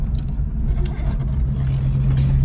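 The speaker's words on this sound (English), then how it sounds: "Really fun car to drive, and I'm trying to shift and film" A 1968 Mercury Cougar with a 289ci V8 and four-speed manual drives along with a steady, low engine rumble close by, its pitch shifting slightly as gears change.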